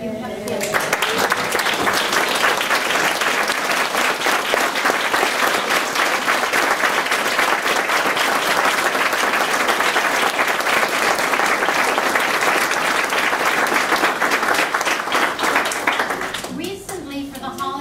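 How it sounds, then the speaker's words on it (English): Audience at a school board meeting applauding in a long, steady, even ovation of many hands, loud and sustained, with a voice briefly heard at the start and end. "All of us want to stand up and applaud what you have given."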